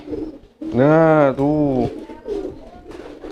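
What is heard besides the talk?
pigeons cooing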